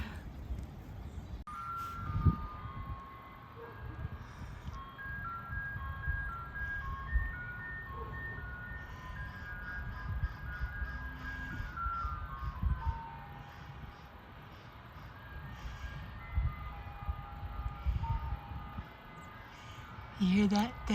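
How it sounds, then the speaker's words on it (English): A nearby ice cream truck plays its tinkling music-box jingle on a warm rainy-season day in Florida, heard from a carport under steady low rumble and rustling, with people talking faintly around it. "That is an ice cream truck."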